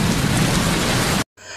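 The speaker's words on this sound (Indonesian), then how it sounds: "Hujan yang masih deras" Heavy, steady rain pours in a film scene, a dense loud hiss that fills the clip alone before cutting out abruptly to brief silence and a faint murmur.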